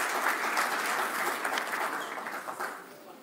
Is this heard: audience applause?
yes